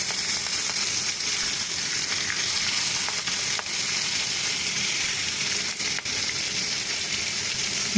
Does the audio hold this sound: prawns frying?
yes